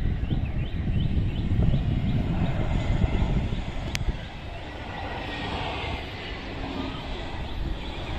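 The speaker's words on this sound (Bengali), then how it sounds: "সাদা লাল রঙের এয়ার অ্যারাবিয়া এয়ারলাইন্সের এয়ারবাস A320 মডেলের এই বিমানটি" A white and red Air Arabia Airbus A320 passes overhead on landing approach, its engine roar loud and windy at first, then easing to a quieter, steady rumble.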